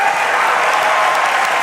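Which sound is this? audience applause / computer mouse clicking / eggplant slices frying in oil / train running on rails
audience applause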